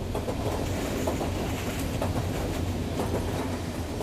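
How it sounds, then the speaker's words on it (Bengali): Steady rumbling train noise with grinding, rhythmic wheel-on-rail clatter filling the carriage, continuous and fairly loud, no voices. "ট্রেনের কামরায় এখন রেলের সঙ্গে চাকা ঘষা ছাড়া আর কোনো শব্দ নেই"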